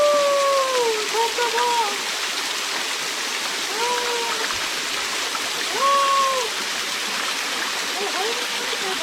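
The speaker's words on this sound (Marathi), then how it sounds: "तर मित्रांनो इथं आहे धबधबा." A waterfall near Torna fort on the Madhe Ghat route pours as a steady, close rush of water, with several short whistling bird calls sounding over it and no talking.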